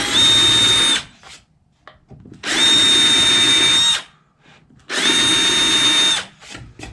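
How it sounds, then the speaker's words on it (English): Power drill with a larger bit bores into wood for a bed platform build, whining loudly and close in three bursts of about one and a half seconds each, separated by short pauses. "So I'll just take a bigger drill bit that would compensate for that size."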